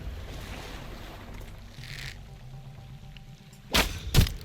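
In the video game Sunkenland, a boat's low rumbling engine and sloshing water play under wind noise, followed by two sharp loud bursts near the end, like cannon fire.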